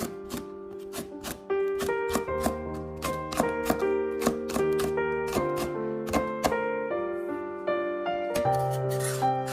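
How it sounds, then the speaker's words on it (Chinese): A knife chops red chili peppers into rings on a cutting board, a quick run of crisp, steady taps under continuous melodic background music. "准备4个红线椒，将红线椒切成圈"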